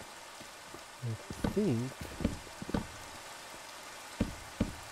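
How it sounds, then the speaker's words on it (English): Rain patters and hisses steadily in the video game Minecraft, a soft crackling downpour under a man's brief speech and occasional game sounds. "I can sleep and get rid of this rain."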